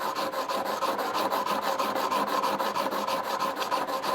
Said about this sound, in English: I am really liking these little metal stones, whatever you call them